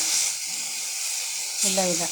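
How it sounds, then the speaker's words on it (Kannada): Tomatoes frying in a pan for chutney, a steady close sizzle and hiss, with a voice speaking briefly near the end. "ಇನ್ನೂ 1-3 ಮಿನಿಟ್ಸ್ ಇದೇ ಥರ ಫ್ರೈ ಆಗಲಿ ಫ್ರೆಂಡ್ಸ್"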